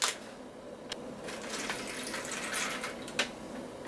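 Water pours into an MRE flameless heater bag in a steady trickling stream with a few brief splashy surges, close and fairly quiet, no voices.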